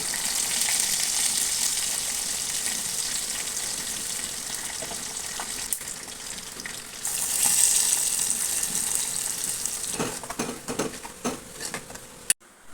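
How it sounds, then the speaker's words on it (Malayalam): Mustard seeds crackle with curry leaves and dried chillies frying in oil for a dosa chutney tempering, a steady soft sizzle with scattered pops and a stirring clatter toward the end, no talk. "കടുകൊക്കെ പൊട്ടി വരുന്നുണ്ട് ഇനി നമുക്ക് ഇതിലോട്ട് ഒരു തണ്ട് കറിവേപ്പിലയും ഉണക്കമുളകും കൂടെ ഇട്ടെടുക്കാം"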